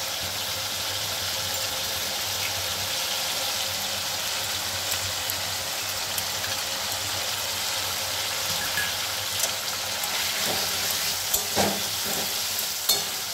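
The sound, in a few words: crushed cashew paste frying in water chestnut curry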